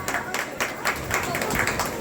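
Audience at a Hindu Shiv Mahapuran religious discourse clapping steadily in rhythmic bursts, a moderately close crowd applause continuing for a couple of seconds.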